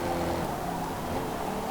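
A Ford Super Ute racing in Forza Motorsport, its engine a steady, fairly faint droning roar held at speed without clear revving.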